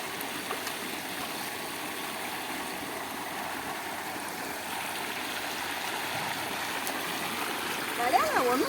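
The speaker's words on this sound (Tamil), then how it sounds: "எப்படி பம்பு செட்டில் தண்ணி எடுத்துட்டு இருக்காங்க பார்த்தியா?" Water gushes steadily from a pump set into a village farm field, a continuous rushing wash with little variation, with a brief voice near the end.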